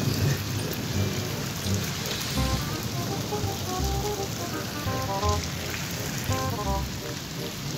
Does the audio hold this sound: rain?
yes